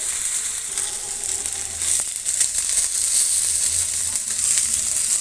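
Fish coated in masala sizzles and crackles steadily in a hot pan, a close, continuous frying hiss with faint stirring scrapes and no talking.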